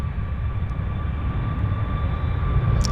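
A heavily fuel-laden WestJet airliner bound for Honolulu rolls for takeoff, a steady loud low engine roar with a sustained whine above it, heard from a distance without voices.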